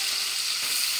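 Pork innards (intestines and organ meats) frying in cooking oil, a steady dense hiss and sizzle, close and loud throughout with no talking.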